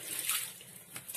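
Water runs from a bathroom tap for a brief, quiet rinse, with a soft hissing spray and a light splash near the end, and no talk.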